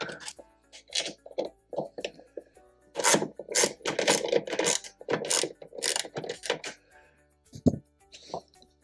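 Socket wrench loosening the nuts on a car tail light during installation, quick clicking ratchet bursts repeating in uneven runs, close up and moderately quiet.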